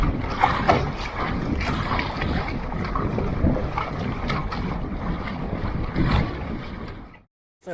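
A GP14 sailing dinghy beats against a southerly, shifty wind on Windermere, with loud, constant wind buffeting over the rush and slap of water against the hull, all heard up close.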